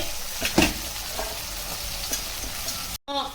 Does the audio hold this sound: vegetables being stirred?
yes